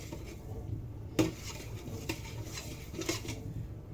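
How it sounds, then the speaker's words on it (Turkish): Salt is stirred into water to dissolve it for a pickle brine, with soft, irregular clinks and scrapes of a spoon against a container at close range over a quiet background. "Ben birazcık daha karıştırıp eriterek bu işlemi yaparak göstermek istiyorum."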